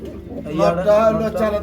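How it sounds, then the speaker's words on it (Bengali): Red Bombay pigeons coo at a pigeon farm, a low, soft, rolling murmur close by, partly covered by someone speaking over it. "দর্শক দেখতেই পাচ্ছেন খুব চমৎকার রেড বোম্বাই কবুতর"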